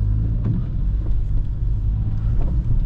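BMW E46 318Ti with a 2-liter N42B20 four-cylinder engine, heard from inside the car on city streets as a steady low engine drone with wind and road rumble, with no clear rev rise.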